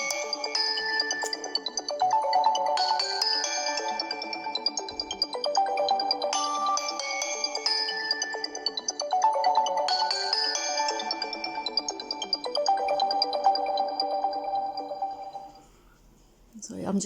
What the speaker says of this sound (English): I'm just getting these messages on my phone and it's interrupting me